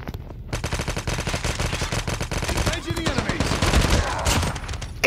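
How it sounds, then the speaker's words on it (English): Gunfire and a grenade blast in a battle royale video game: rapid automatic bursts run continuously and loudly, with a heavier explosive burst near the end, and a voice briefly speaking beneath. "Ooh, grenade!"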